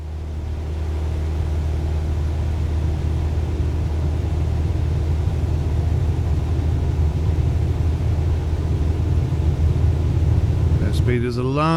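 A Cessna engine in Microsoft Flight Simulator 2024 runs at full power for takeoff, giving a loud, steady, droning rumble that holds throughout and is briefly joined by a rising tone just before the end.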